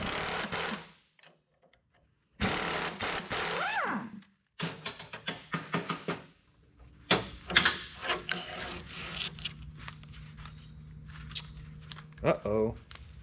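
A ratchet spins a crusty bolt on a Ford F250 Super Duty pickup spring shackle, clicking in uneven bursts with metallic clanks and handling noise between them, while someone talks intermittently.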